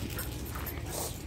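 Lucy the dog whimpering during a game of ball, a brief run of soft, high, close whines over faint background noise.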